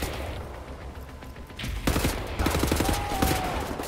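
Enemy gunfire in Wolfenstein: The New Order, bursts of rapid automatic shots that grow louder and denser midway, mixed with game noise and a short rising tone.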